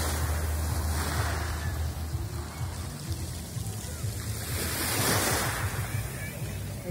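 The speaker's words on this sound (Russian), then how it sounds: "Волны совсем небольшие." Small sea waves washing steadily onto a shore with clear water, a continuous close surf roar with gentle swells and some wind buffeting the microphone.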